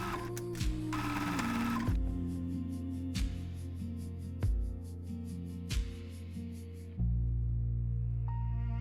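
A sewing machine stitches a little girl's wrap dress, running in steady bursts with a rhythmic mechanical whir broken by short pauses and clicks, close and alone without talk.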